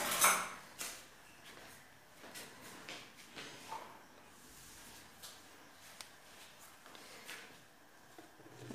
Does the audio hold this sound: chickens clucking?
no